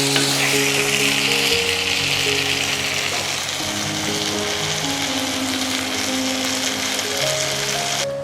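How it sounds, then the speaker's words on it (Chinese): Fried eggplant sizzles in a wok with red chilies and a prepared sauce, a loud, steady frying crackle with stirring close up, while a low tonal hum runs beneath. "这炸好的茄子放到锅里，咱给它煮下锅"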